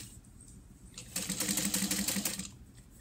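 A Juki DU1181N industrial sewing machine stitches Tech 70 bonded nylon at a short stitch length. After a quiet start comes a burst of rapid, even needle clatter that runs for about a second and a half and then stops. It is close but soft.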